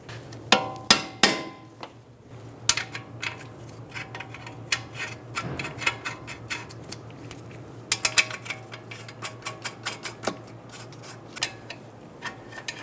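Metallic ratcheting clicks in quick bursts from a hand ratchet on a strut mount bolt of a 2007-2011 Toyota Camry during front strut mount replacement, close and fairly loud over a steady low hum, with pauses between runs.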